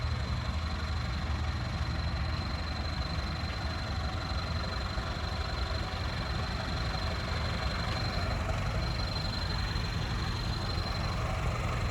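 A John Deere tractor engine idles with a steady, continuous low rumble and a faint knocking texture, running evenly for about twelve seconds with no talk over it.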